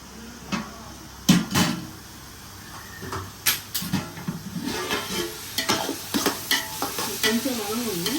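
Ginger and garlic sizzling in hot oil for mutton biryani, with repeated scraping stirs of a spoon against the pan and occasional knocks, close and fairly quiet.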